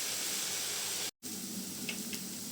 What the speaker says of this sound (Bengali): এখন ভাজিটা আমি বসিয়ে দিয়েছি